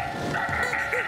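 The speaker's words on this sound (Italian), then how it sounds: "Norman Price è inseguito da un cane robotico che va a fuoco" A cartoon robotic dog barks in short yappy bursts, loud and close, with a bright electronic tone behind it.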